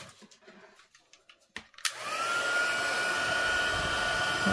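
An embossing heat tool melts powder on a paper card, switching on after some quiet handling sounds and then blowing as a steady, loud whirring hiss with a rising tone until the end.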